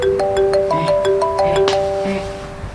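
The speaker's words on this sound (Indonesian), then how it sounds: "Ini HP gua." A mobile phone ringtone plays a bright, repeating electronic melody of short tonal notes, loud and close, with faint room noise underneath.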